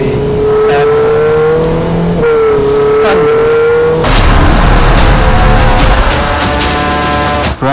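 A Ferrari 488 Pista roars at high speed, its engine note climbing through the revs, dropping briefly at a gear change, then surging louder and harsher as it accelerates hard, close and dominant throughout.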